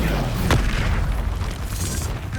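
An Expulso spell explosion from the video game Hogwarts Legacy gives a single loud booming burst near the start, then a rumbling tail fading under steady battle noise, with no talk.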